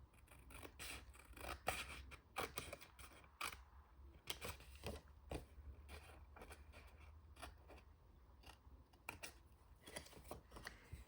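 Scissors snipping paper at an angle along a score line for a paper craft pocket insert: quiet, close, irregular clicks and short snips scattered over a low background hum, no voices.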